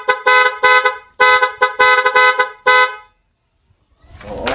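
A newly installed Nhay 3+ pro music vehicle horn plays a rapid, loud melodic sequence of tones in bursts for about three seconds, then stops, followed by rising outdoor rumble.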